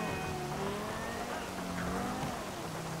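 A revving racing-car engine in Grand Theft Auto V roars steadily with rising and falling pitch, dense and continuous, with a low rumble underneath.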